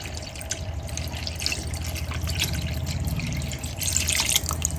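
About a litre of water pours steadily into a pot of beef seeraga samba biryani on high flame, a continuous close splashing and trickling hiss with low kitchen rumble beneath.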